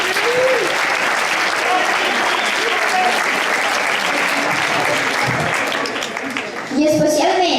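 Loud, sustained audience applause at a Sant Antoni celebration in a secondary school, dense clapping that thins slightly before a voice starts speaking near the end.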